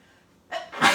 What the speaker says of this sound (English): Excuse me, I feel like I'm gonna sneeze.